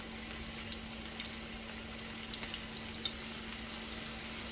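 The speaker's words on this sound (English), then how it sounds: "I am going to put the fish to be sauteed and actually decrease the fire" Swordfish sautés in oil in a pan, a steady close sizzle with a few small pops and spatters and no talking.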